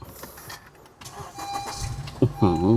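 Push-button start of a 2018 Honda CR-V 2.4 with its petrol engine, a short cranking whir that catches and settles into a rising idle at the very end. Someone talks over the start.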